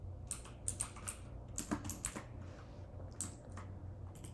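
Someone types "hello world" on a computer keyboard: a quick, irregular run of light key clicks at moderate level over a steady low hum, with no talking.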